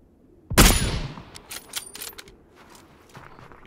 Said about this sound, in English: You might have heard those VSS shots starting.